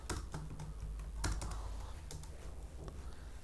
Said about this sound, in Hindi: मैं एक बार एंटर प्रेस कर देता हूँ नॉर्मल, और यहाँ लिख देता हूँ एंटर